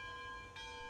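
Locomotive bell in Railroads Online, a single bright metallic ring with sustained tonal overtones, struck once briefly and heard alone at low level.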